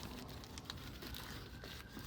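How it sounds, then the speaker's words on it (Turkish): A plastic seedling bag is packed with moist peat mixed with perlite, giving a continuous close crinkling and crunching of plastic and damp soil. "İyice sıkıştırarak poşetimizi, fidan poşetimizi dolduruyoruz."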